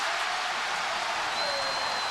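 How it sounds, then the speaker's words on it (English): A college basketball crowd at a Texas A&M versus Arizona game roars after a Budinger three-pointer: dense, loud, sustained cheering and applause with no break, and one faint whistle-like tone rising through it. "Listen to the crowd here."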